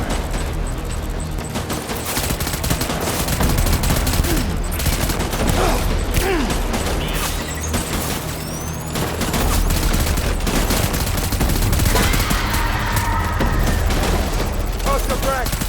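Heavy gunfire in the video game Death Stranding: dense, continuous volleys of rattling shots and deep booms, loud and close throughout with almost no letup.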